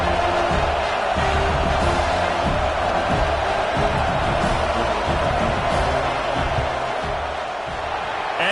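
A football stadium crowd roaring during a field goal attempt, a dense, steady wall of distant cheering and shouting that holds throughout.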